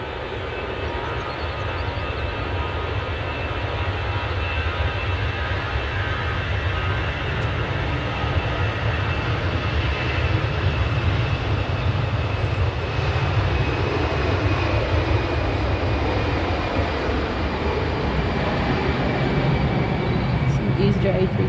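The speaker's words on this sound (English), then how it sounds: "Okay, so we've got this EasyJet. It's now looking to depart." An EasyJet airliner departing, heard as a steady, loud broadband engine roar with a continuous low rumble and faint high whine throughout, with talk picked up at points.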